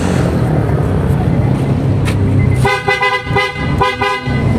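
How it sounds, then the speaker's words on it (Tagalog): A loud Honda Civic fitted with PIAA horns blares close by in a few bursts after a moment of engine and background noise, sounding strong and piercing. "try natin mga boss yung lakas ng horn"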